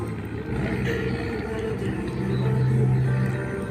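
A newly built ship moving across the water in the Maldives, a cargo vessel meant for hauling rice, lentils and oil, gives off a steady, loud low engine drone with a constant deep hum and no break.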